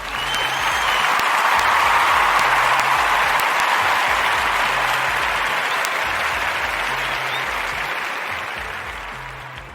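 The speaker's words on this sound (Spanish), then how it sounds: "vamos a darnos un fuerte aplauso" Sustained audience applause, a broad steady wash of many hands clapping that swells early and slowly fades, with a repeating low beat of background music underneath.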